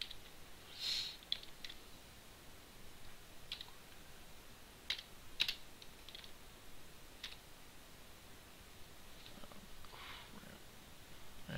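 Faint, sparse keystrokes tapping on a computer keyboard, with irregular clicks spread across a quiet room and a few louder taps, no talking.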